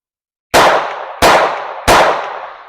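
Three loud gunshots from a Taurus TX22 .22 handgun, evenly spaced sharp cracks, each trailing off in a short echoing ring, with no one talking.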